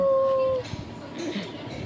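A voice imitates a dog with one drawn-out, howl-like cry that stops abruptly, leaving faint background noise in a casual home setting with Tamil speakers.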